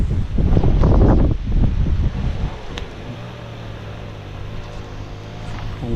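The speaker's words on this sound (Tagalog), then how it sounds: "malakas yung hangin" Strong wind outdoors buffeting the microphone in loud gusts at first, easing into a lower steady rush with a faint hum underneath.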